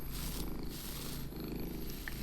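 Young kitten Teddy is brushed with his normal brush, and a soft, continuous purr rumbles up close throughout, with faint brush strokes and no talk.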